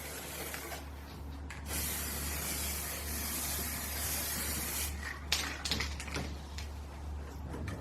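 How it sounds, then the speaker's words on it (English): Aerosol spray paint hissing steadily as a vintage-style sign is sprayed black, a long continuous burst with short breaks and light handling noise, close and fairly loud, no talking. "I'm going to spray that black."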